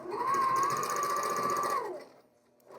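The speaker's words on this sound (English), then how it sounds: "now the sewing is going to be super simple. I'm just going to lay on those first 2 rows together, lock in my seams" A sewing machine runs steadily, stitching the first two quilt rows together along a quarter-inch seam, a close, even motor whir lasting about two seconds before stopping, then a brief faint sound after.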